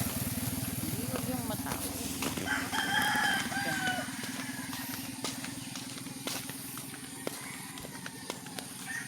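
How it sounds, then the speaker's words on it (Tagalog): Roosters and chickens crow and cluck around a rural province neighborhood during an early morning walk, with a repeated bird call rising over steady low outdoor rumble and someone talking throughout. "Daming manok dito mga idol sa probinsya pag mahilig kasi mag-alaga"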